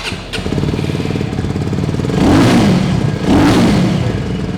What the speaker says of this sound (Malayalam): ഒരു 250cc സിംഗിൾ സിലിണ്ടറിന് കൊണ്ടുവരാവുന്നതിന്റെ മാക്സിമം നോട്ട് കൊണ്ടുവന്നിട്ടുണ്ട്.